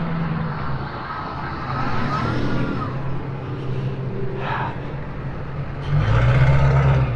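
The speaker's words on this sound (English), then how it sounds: "Look at all that traffic." Road traffic rolls past on a busy road near Moosehead Lake on a total solar eclipse day: a continuous low rumble of cars and trucks, with a heavier vehicle swelling closer toward the end.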